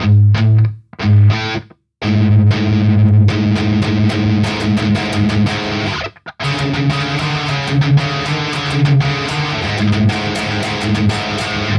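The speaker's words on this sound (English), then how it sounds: "You're just going to play two notes that are one semitone apart." Heavily distorted electric guitar chugs a grinding, dissonant pair of notes, with a few short stops early on, then steady rhythmic playing.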